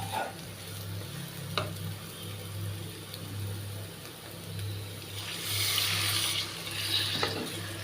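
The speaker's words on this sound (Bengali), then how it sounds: "অল্প একটু পরিমাণ জল দিয়ে দেব" Water goes into a pan of frying green banana kofta curry, the steady sizzle swelling into a brighter hissing rush as the liquid hits, with faint clinks over a low background hum.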